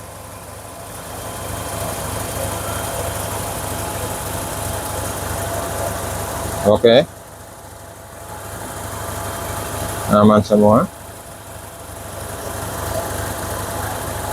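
A Toyota Starlet SE car engine idles with a steady low hum throughout, while a voice speaks briefly twice over it.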